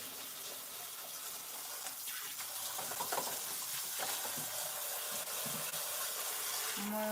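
Tap water runs steadily over farmers market produce being rinsed in a sink, a continuous close hiss and splash that grows slightly fuller partway through, with small clatters near the end.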